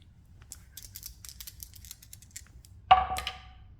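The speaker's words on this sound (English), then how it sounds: "So let's roll the dice." Dice for The Campaign for North Africa (SPI) board game: a few light clicks of handling, then a sharp, close clatter as they are tossed and tumble to a stop.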